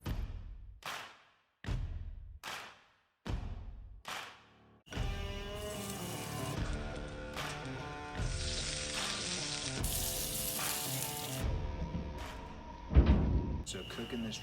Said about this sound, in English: So cooking this triggerfish, we got two fillets from the fish.